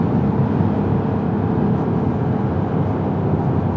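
A supercharged 750bhp Mercedes C63 engine pulls hard under acceleration, a loud, steady low-pitched roar that holds at an even level with no speech over it.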